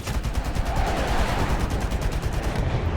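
Rapid cannon bursts from a Yak-17 jet in War Thunder, a dense continuous stream of loud, close gunfire hammering steadily for the whole stretch with no pauses.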